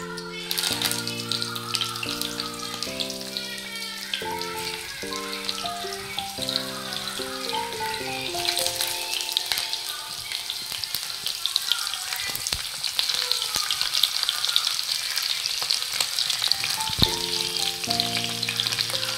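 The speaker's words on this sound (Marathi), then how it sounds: "आता सर्व गिलके आपण कढईमध्ये सोडू।" Stuffed sponge gourd (gilki) goes into hot oil in a kadhai, starting with music before a loud, continuous sizzle and crackle of frying builds and holds steady to the end.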